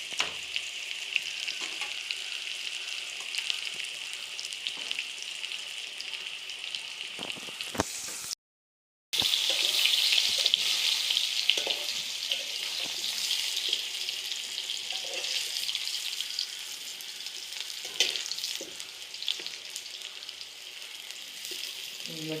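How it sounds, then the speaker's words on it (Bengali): Potatoes frying in hot oil for a chicken curry give off a steady, close crackling sizzle with occasional stirring clatter, broken by a brief silent gap partway through before the sizzle resumes. "এই হচ্ছে আলু ভাজা হয়ে এসছে।"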